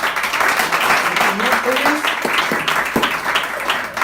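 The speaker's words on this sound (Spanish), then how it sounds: "Lo saludamos con un aplauso" An applause greeting a visiting man during a Sunday church service, a dense patter of clapping from the congregation with voices talking over it throughout.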